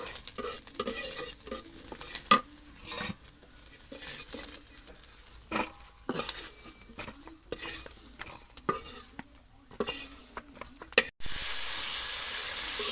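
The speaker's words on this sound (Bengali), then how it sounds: "দেখুন আমি নোনা ভাজতেছি" Salted hilsa fish frying in a pan, a quiet crackling sizzle broken by frequent sharp scrapes and taps of a spatula, ending in a sudden loud steady hiss.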